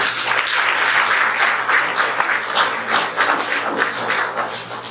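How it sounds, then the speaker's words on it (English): A forum audience applauds an answer with a steady, fairly loud wash of clapping from many hands, sustained evenly from start to finish over a low hum. "A round of applause for that response"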